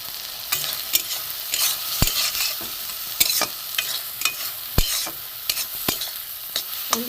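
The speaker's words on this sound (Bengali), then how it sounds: "একটু ভালো করে নাড়বো, মশলাটা মিশে যায় যেন ভেতরে।" A spoon stirs spiced egg curry in a frying pan, sharp scrapes and clacks against the pan in an irregular rhythm over a continuous close sizzle.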